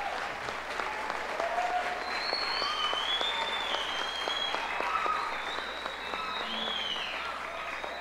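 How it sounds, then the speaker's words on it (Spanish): An audience claps steadily in welcome for arriving musicians, dense and sustained, with a few shouts and whistles rising over the clapping. "con un aplauso recibámoslos"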